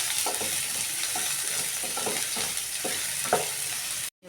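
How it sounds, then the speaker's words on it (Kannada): Onion and green chilli fry in a pan for a jowar masala mudde, a steady close sizzle with a few scraping stirs and no voices. "ಇವಾಗ ಈರುಳ್ಳಿ, ಹಸಿಮೆಣಸಿನ್ಕಾಯಿ ಹಾಕಿಬಿಟ್ಟು ಸ್ವಲ್ಪ ಫ್ರೈ ಮಾಡೋಣ."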